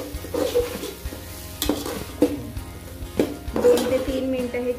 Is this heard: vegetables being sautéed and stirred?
yes